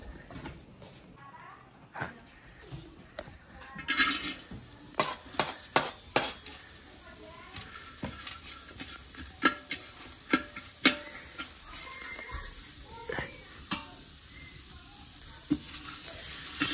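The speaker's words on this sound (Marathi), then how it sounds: "आता आपण बनवणार आहोत चुलीवरचं चिकन." Chicken fries over a wood-fired clay stove, a faint steady sizzle broken by sharp scrapes and clinks of a ladle stirring the pot, with occasional quiet voices in the background.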